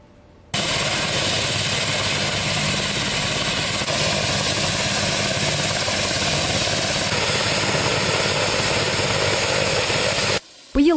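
A helicopter flies over forest land on fire-risk patrol, its engine and rotor a loud, steady drone that holds for about ten seconds before cutting off abruptly.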